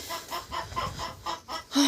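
A crested rooster with a suspected spine injury clucks on a farmyard, giving a steady run of about six short, close, moderately loud clucks.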